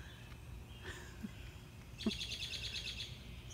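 A faint, distant bird answers from across the yard with a quick, soft run of high chirps after a few scattered calls, against quiet outdoor ambience.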